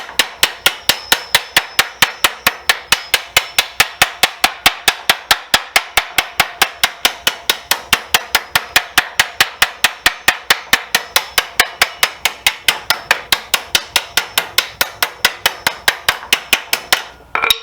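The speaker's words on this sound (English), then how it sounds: "I'm going to go ahead and beat the hell out of this whole damn band" A hammer strikes a metal band on a pot or cauldron in a rapid, even train of sharp metallic blows, loud and close, continuing steadily for the whole stretch.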